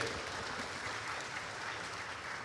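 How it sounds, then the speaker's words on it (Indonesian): Applause from the audience at a sustainable development talk event, a steady wash of clapping heard fairly faint and distant throughout. "tepuk tangan dong buat Pertamina NRE"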